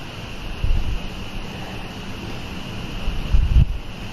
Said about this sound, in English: I know it seems kind of windy.